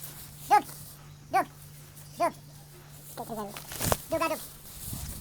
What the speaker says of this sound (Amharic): ዚስ ኢዝ ማይ ዶግ።